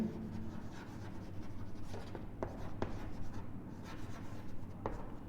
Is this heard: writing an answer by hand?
yes